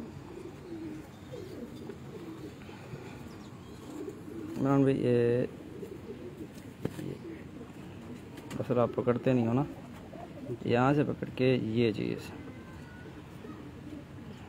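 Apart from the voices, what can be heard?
pigeons cooing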